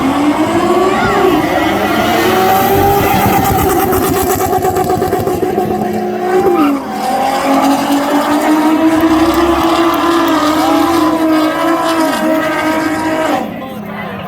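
Nissan 370Z and Corvette ZR1 drag racing at The Freedom Factory spectator drags, where the 370Z hits the wall; loud, steady engine roar rising in pitch over about thirteen seconds with a brief dip midway, cutting off near the end, with faint voices underneath.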